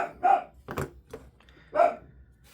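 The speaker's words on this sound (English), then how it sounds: "I don't know what he's barking at." An older dog that is losing its hearing barks in a few short, hoarse woofs spaced apart, fairly close and otherwise quiet.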